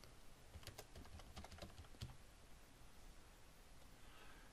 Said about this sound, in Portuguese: E vou escrever aqui Jefferson.